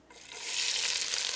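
Diced leeks hit a hot pot for corn chowder and burst into a loud, steady sizzle that swells quickly and holds, close and alone with no talk.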